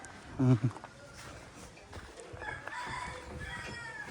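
A rooster crows once, loud and brief near the start, followed by a quieter mix of rural background sounds.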